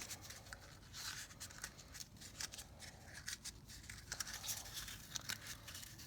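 Scissors snip steadily around a seed pot, a run of close, crisp cuts with soft crinkling between them and no talking.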